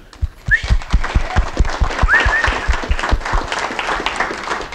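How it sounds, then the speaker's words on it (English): Audience applause at a community recognition night honoring staff ambassadors, a dense steady clapping with sharp rhythmic claps close by over a broad crowd wash, plus a brief whistle-like cheer. "I'm going to ask all of them to stand up so we can give them a round of applause."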